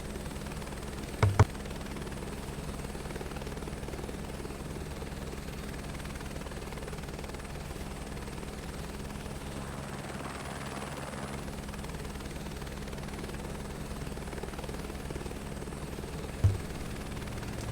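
A helicopter's rotor and engine in Microsoft Flight Simulator 2024 hold a steady, continuous drone that stays fairly quiet, with a couple of brief sharp clicks.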